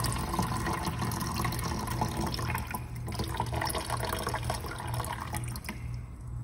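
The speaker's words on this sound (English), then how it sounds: "I'm going to start pouring before everything settles too much in order to get rid of some of that debris." Fermented tomato seed water poured off to rinse away debris, a steady trickling and splashing stream that runs for several seconds and thins near the end, close by with no talk.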